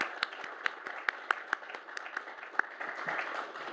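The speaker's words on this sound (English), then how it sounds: "Let's have another round of applause for our dean" A round of applause for the dean at an ethics lecture in the Harvard Club, heard as a sparse patter of distinct claps from a modest crowd in an indoor hall.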